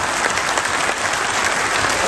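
A hall full of people at an all-Pakistan lawyers' convention applauds, with dense, sustained clapping that stays loud and steady throughout.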